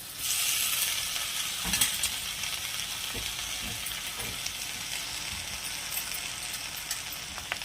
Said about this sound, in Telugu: మునగాకు అది వేసేసుకోవాలి బాండట్లో